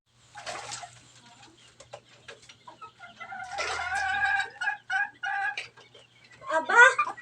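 A chicken clucks in short, scattered bursts nearby, mixed with a person talking at times.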